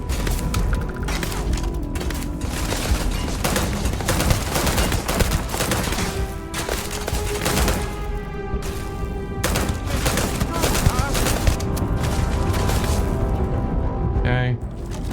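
Gunfire in the space video game Starfield: dense, continuous rapid shots and impacts with booming hits crowd the whole stretch, loud and unbroken, with in-game tones threading through toward the end.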